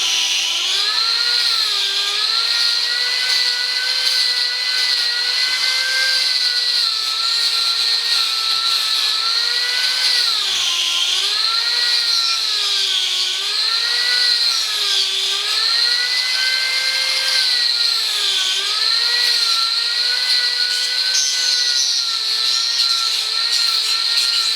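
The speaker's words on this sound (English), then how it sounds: "Alex is going to start on a piece of knotty pine log with the budget carving disc" A budget carving disc power-carves a knotty pine log, a loud, steady high whine whose pitch wavers up and down in repeated swells as the disc bites and eases through the wood, with no talk.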